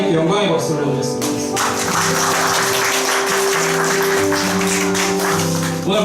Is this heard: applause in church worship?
yes